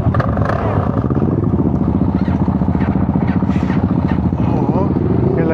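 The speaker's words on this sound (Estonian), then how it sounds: "See tsikkel kärab küll praegu." A motorcycle engine roars loudly and continuously at close range during a season-opening ride gathering, a rough, rattling growl with faint voices nearby.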